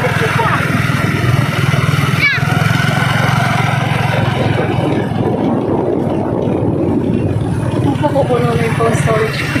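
A motorcycle carrying riders hums along steadily with a low, continuous engine drone throughout, while people talk over the ride.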